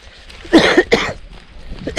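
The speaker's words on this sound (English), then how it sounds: "I'm coughing a lot." Two harsh, close coughs in quick succession, followed by quieter throat sounds and the start of another cough.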